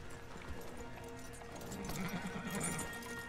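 Hooves of several Arabian stallions being led on horseback in Red Dead Redemption 2 clop in a steady rhythm, moderately close, layered over game ambience with a brief whinny-like tone.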